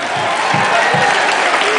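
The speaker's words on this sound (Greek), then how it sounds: "Χειροκρότημα, παρακαλώ." A crowd at a live concert of Greek popular music applauds, dense steady clapping with a murmur of voices mixed in.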